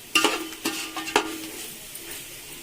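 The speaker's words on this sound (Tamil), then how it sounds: "எண்ணெயில் நல்லா மிளகாத்தூள் வதங்கும் போது நல்லா ரெட்டு கலரில் வரும் பிரியாணி" Chili powder fries in oil for a home-style mutton biryani, with a soft sizzle under a few sharp scrapes and clinks of a spoon stirring in the pan.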